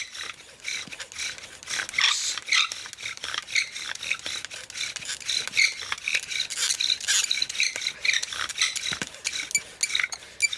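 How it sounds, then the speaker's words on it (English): A wooden friction fire drill grinds steadily against a wooden board under rising pressure and speed, a continuous close, raspy scraping and squeaking that runs evenly throughout. "Start to increase the pressure and the speed, getting some smoke."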